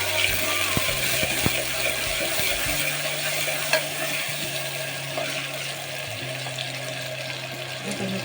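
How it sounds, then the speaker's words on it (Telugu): Chopped onion fries in hot oil as flat beans are cooked, giving a continuous close sizzle with occasional spatula clicks and stirring scrapes and no talking. "ఆయిల్ బాగా వేడెక్కిన తర్వాత మనం కట్ చేసి పెట్టుకుని ఆనియన్ వేసేద్దాం. ఇది కొంచెం ఫ్రై కానిద్దాం."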